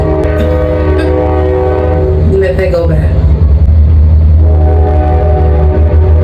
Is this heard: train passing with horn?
yes